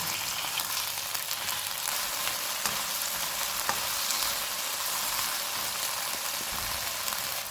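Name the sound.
chicken frying with ginger garlic paste on medium flame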